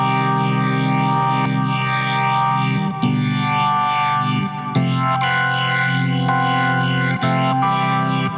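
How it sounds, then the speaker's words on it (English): ToneStack rock organ patch with chorus and vibrato, a sustained, thick chord held steady with shimmering, wavering modulation and a few faint key clicks, loud and continuous with no voices. "So I think both the chorus and the vibrato settings sound quite nice."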